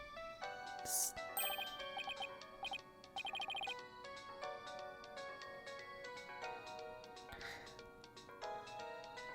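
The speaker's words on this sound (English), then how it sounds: "Apollo, this is your ringtone." A jingly electronic phone ringtone melody from the Phoenix Wright: Ace Attorney - Dual Destinies video game, bright chiming notes repeating in a steady tune, fairly loud and continuous across the whole stretch.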